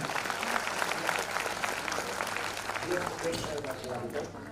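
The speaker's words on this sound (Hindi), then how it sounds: "तो मैं चाहूंगा सेल्फ ऑफ के लिए जोरदार धमाकेदार ताली" Applause from a crowd at a business seminar, steady clapping at moderate distance with voices talking over it throughout.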